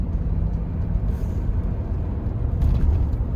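A 1994 Oldsmobile Silhouette minivan drives along, heard as a steady low rumble of engine and road noise inside the cabin, with no talk.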